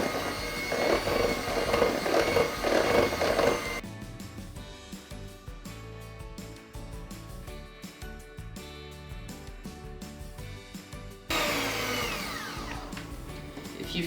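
Electric mixer whirring steadily as it beats vanilla buttercream frosting with powdered sugar, the motor's pitch and loudness shifting between sections over about fourteen seconds, close and alone without talk.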